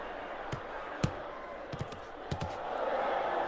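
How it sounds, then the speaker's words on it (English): Crowd noise from the VR boxing game RingsideVR, a steady murmur of spectators swelling slightly toward the end, punctuated by several sharp thuds of gloved punches landing. "hearing that crowd make that reaction"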